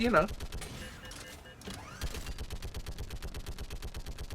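A heavy mounted gun fires in Mass Effect 3, opening with a brief sound and then a steady, rapid stream of loud repeating shots that runs to the end.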